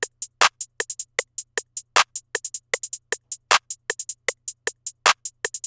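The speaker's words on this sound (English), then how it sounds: "Starting off, we have the hi-hat and clap." Programmed hi-hat and clap pattern in a two-step rhythm, with quick repeating trotting hi-hat notes and sharp claps, crisp and upfront with no voices.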